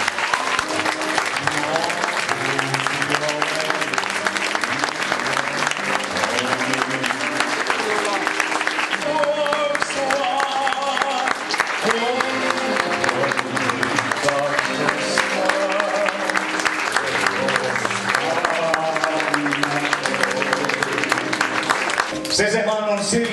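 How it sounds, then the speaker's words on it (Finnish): An audience at a tribute evening for Finnish performer Simo Salminen applauds and cheers under music. The clapping is loud and continuous for over twenty seconds, with a brief dip partway through before it swells again. "Joten aplodit hänelle."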